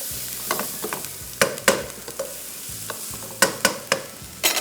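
Onion and garlic frying in a pan on high heat, with repeated sharp scraping stirs over a steady sizzle, close and fairly loud, no voices.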